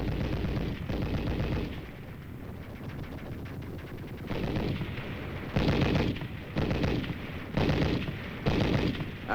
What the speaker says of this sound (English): As the machine gun bullets spattered a murderous background to this baptism of fire, Chang kept on crawling